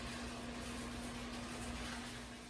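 A steady low electrical hum with a constant tone, running continuously under broadband background noise, like an appliance droning nearby.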